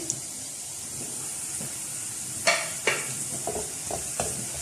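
Onions and garam masala sizzle in a hot pan for keema matar, a constant frying hiss punctuated by several sharp scrapes and clinks of a stirring spoon.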